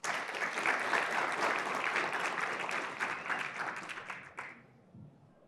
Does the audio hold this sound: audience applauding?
yes